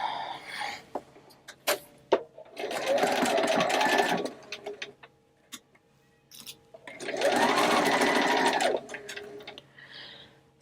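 A sewing machine stitches a fitted face mask with a dart and gusset in two steady runs of several seconds each, close and clear, with handling clicks and pauses between the runs.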